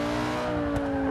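A 2011 Audi RS5 Coupe's engine in the racing game Forza 6 holds a steady, close drone during an S-Class time-attack lap, with a loud, even tone and no speech.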